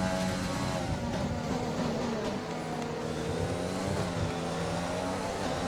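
F1 race car in a racing video game overtaking on a straight, a dense high-revving engine roar held steady for several seconds, with other cars' engines blending in nearby.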